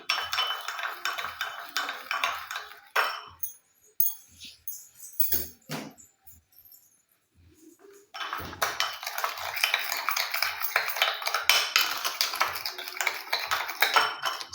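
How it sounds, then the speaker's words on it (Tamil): A spoon scraping and clinking in a bowl while mixing a sugar face paste, with busy rhythmic clatter, a pause with scattered taps and low murmurs, then brisk continuous stirring again. "நல்லா சேர்த்து மிக்ஸ் பண்ணி விடுங்க"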